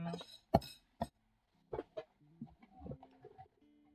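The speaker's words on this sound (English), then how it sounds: "Chicken." A chicken clucks in a few short, sharp bursts followed by softer murmuring clucks, fairly faint and close, with no speech.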